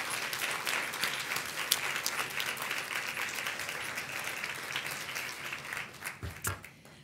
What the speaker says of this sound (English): So if you'll please join me in a round of applause for their support.